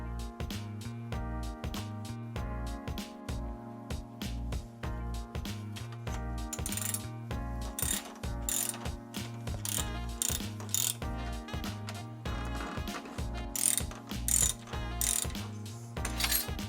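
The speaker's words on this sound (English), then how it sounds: "Now I actually need to back the drive side out a little bit" The drive-side bottom bracket cup of a Surly Troll touring bike is backed out with a ratcheting tool, giving quiet, close, rhythmic ratchet clicks and metallic clatter that repeat steadily throughout.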